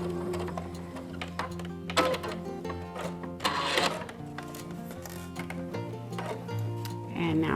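A sewing machine stitches a fabric face mask, running in steady mechanical bursts with a rhythmic whirring hum and short pauses between stitch runs, fairly close and moderately loud.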